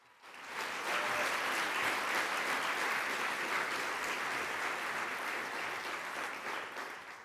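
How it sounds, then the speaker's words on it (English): Sustained clapping from a conference crowd at a family gathering, even and continuous at moderate distance, rising quickly and easing slightly at the close. "One more big round of applause for Joe Lang,"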